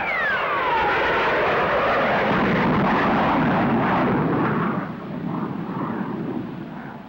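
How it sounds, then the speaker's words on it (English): A 1953 jet aircraft climbs with its afterburner lit, giving a loud, close roaring rush that holds steady for several seconds, then eases slightly and continues. "Now we are approaching with the afterburner in operation."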